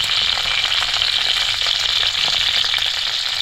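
Bell pepper frying in a pan: a steady, loud, close hiss of sizzling oil with faint crackles and no talk.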